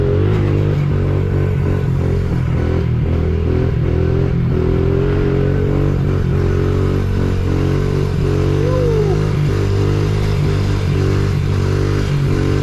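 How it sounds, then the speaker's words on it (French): A 70 XR mini motorcycle (110 CRF) rides steadily along a trail with a continuous buzzing engine and some rattling, clattering mechanical noises, loud and close, with no talking. "la moto, elle fait un peu des bruits de push"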